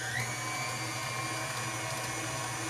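Electric mixer whipping cream into butter, a steady, fairly faint whirring motor hum that runs on unchanged with no talk.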